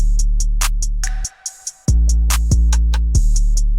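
Ambient-style FL Studio beat with a steady pulse of open hi-hats and light percussion over deep bass, dropping out briefly midway before a kick-driven pattern returns at moderate volume.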